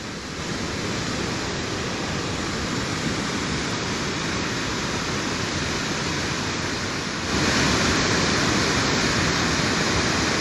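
The swollen Ganga at Gangotri rushes in flood. The roar of the torrent is dense and constant and grows a little louder partway through.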